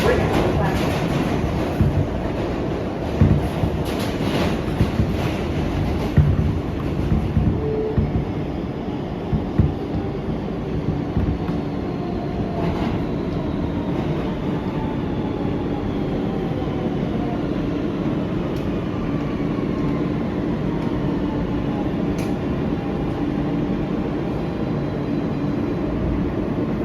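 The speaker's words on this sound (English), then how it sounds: "This is a Manhattan-bound E local train." An R160B Siemens E local subway train runs steadily on New York City Subway track, with a continuous loud rumble and faint clicking of wheels over rail joints throughout.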